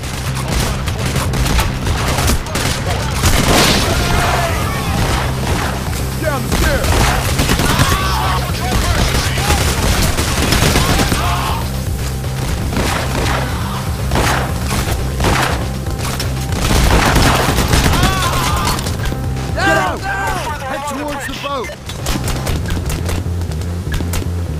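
A shootout in the video game Payday The Heist brings rapid, continuous gunfire with booming bursts and dense volleys, loud and near throughout, mixed with game voices and effects.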